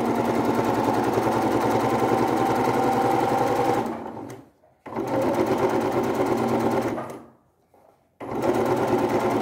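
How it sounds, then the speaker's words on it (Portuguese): Sewing machine running a hem along a dish towel, a loud, dense mechanical whir in two long continuous bursts, each stopping briefly before starting again, heard close up with no talking. "agora eu vou lá para a máquina e já vou passar uma costurinha aqui, ó, de fora a fora, já para deixar a bainha pronta"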